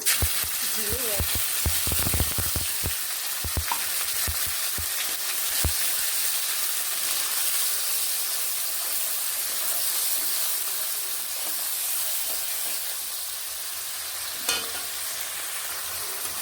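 Tempering spices, including cumin seeds, fry in a pan with a loud, continuous close sizzle, while stirring adds a flurry of scrapes and knocks early on that thins out as the hiss carries on alone.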